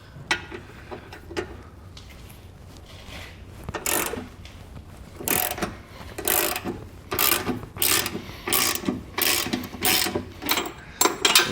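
Ratchet wrench clicking as the factory bolts are backed out of a 2023 Jeep Wrangler frame, with bursts of quick ratcheting strokes growing louder and denser toward the end, close by and without talk.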